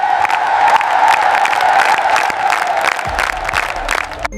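Villagers in a cartoon village break into applause and cheering, a dense steady wash of clapping and crowd noise that runs throughout, fairly loud and close.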